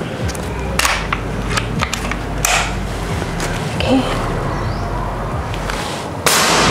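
A PCP bullpup air rifle, the OD 38, fires a few sharp, snappy shots spaced apart in an outdoor setting, each a short loud crack over steady background noise, with a brief word spoken.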